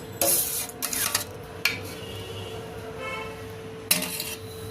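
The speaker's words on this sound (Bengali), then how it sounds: "একটু নাড়িয়ে দিচ্ছি এবার গুড়টা মেল্ট হওয়া অবধি আমি ওয়েট করব" A spoon stirs milk and nolen jaggery in a cooking pot for payesh, making a few clinking metal scrapes against the pot in short bursts over a quiet low hum.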